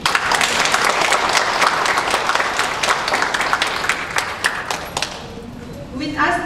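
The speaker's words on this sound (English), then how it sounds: "Let us give him a warm welcome of applause." Dense, loud audience applause fills a hall at the opening ceremony of a mental health festival as a Member of Parliament is welcomed, holding steady before thinning out near the end.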